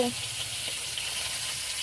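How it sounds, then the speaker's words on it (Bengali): Mourola fish fry in a pan with a steady, close crackling sizzle throughout, a brief voice at the very start. "মরলো মাছ ভাজা হচ্ছে"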